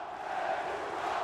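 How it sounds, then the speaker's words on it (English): Greek fans cheer at a EuroBasket basketball game, a steady, distant roar of a large arena crowd, sustained and even, with no distinct voices standing out. "That's the first time we've heard these Greek fans cheer for anyone else except for Hellas."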